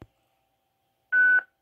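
A single steady electronic beep marking the start of a voicemail recording on a phone call, sounding clearly for about a third of a second after near silence, with a faint click at the very start.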